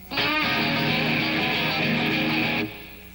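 Guitar strings strummed open, a full chord ringing out bright and sustained for a couple of seconds before being cut off abruptly.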